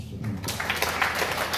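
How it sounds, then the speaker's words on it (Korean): Audience applause at a science-community forum in Daedeok, a dense steady wash of clapping filling the room, fairly close and loud throughout. "우리 모두를 위해서 박수 한번 주시죠"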